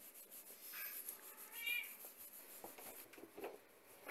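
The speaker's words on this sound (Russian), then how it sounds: "И кошки нам активно помогают." A munchkin cat lets out a clear, fairly close meow, followed by quieter rustling and small household bumps.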